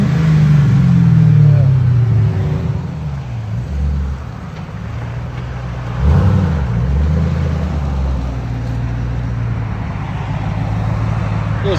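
A 2005 Ford Mustang GT V8 with Flowmaster Outlaw dual exhaust revs hard once, then settles into a deep, rumbling idle with a second smaller blip, loud and close.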